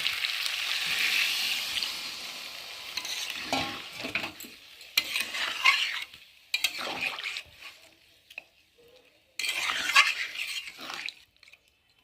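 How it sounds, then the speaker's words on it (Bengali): Fried chicken masala is stirred in a pan, a spoon scraping through the thick, sizzling mixture in bursts with short quiet gaps between strokes, close and fairly loud, with no voices. "এখন আমি ভালো করে নেড়ে এখন জল দিয়ে দেবো"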